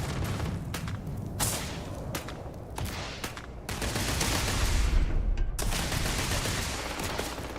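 Gunfire in the Starfield video game, bursts of shots and booming impacts crackling loudly and continuously, with dense overlapping reports and no talking.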